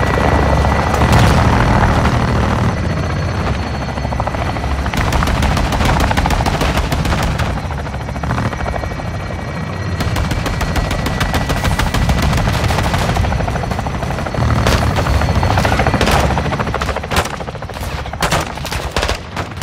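Helicopter fire support in Call of Duty: Modern Warfare II: loud, sustained rotor drone with dense bursts of machine-gun fire and crackling impacts, continuing almost unbroken with brief lulls.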